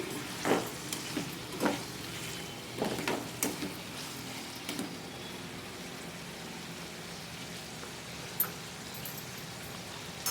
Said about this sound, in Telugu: సిమ్లో పెట్టుకొని ఫ్రై చేసుకోవాలండి ఇలా తిప్పుకుంటూ ఫ్రై చేసుకోవాలి